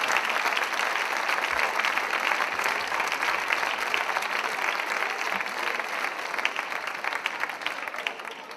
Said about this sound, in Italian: Fate un applauso, per favore, agli studenti di Pop Corner e ai maestri